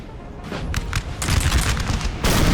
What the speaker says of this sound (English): They've got artillery firing over the heads of their own forces.